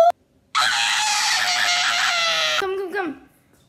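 A loud, sustained scream lasting about two seconds breaks out after a brief sound, then trails off into a lower wailing tone.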